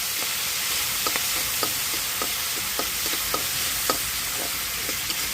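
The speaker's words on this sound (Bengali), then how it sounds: "চিংড়ি মাছটা আমি লাল লাল করে ভেজে নেব" Shrimp frying in a pan with panch phoron spices, a constant hissing sizzle punctuated by a dozen or so sharp scraping stirs at irregular intervals, close and with no one speaking.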